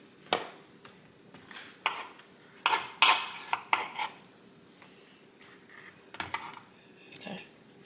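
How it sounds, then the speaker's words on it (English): Knife strokes cutting a yellow onion on a board in a home kitchen, with a series of sharp, uneven taps and clinks, close and fairly quiet, with pauses between them. "Let's cut us some yellow onion off of here"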